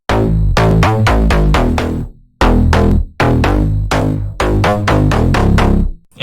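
A slap house bass line with pitch bend automation drives a Brazilian bass style drop. Loud, rhythmic, bouncy plucked notes repeat in quick phrases with short pauses between groups, and there is no talking.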